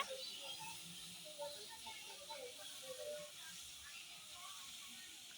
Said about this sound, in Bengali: আমাদের কড়াই তেতে গেছে এবার তেল দিয়ে দিবে